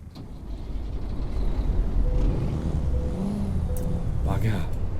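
International 9800 truck engine in American Truck Simulator, a steady low diesel drone that builds slightly and holds, with a brief hiss near the end and a voice talking over it.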